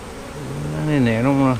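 A swarm of honey bees hums close to the microphone during swarm capture in a tree, a steady buzzing drone that swells louder and wavers in pitch toward the end.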